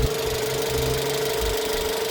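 A Jeep Compass Limited 4x4 with a 2.4-litre, 180-horsepower petrol engine and automatic gearbox idles steadily up close, a smooth even hum with a faint rhythmic knock and no talking.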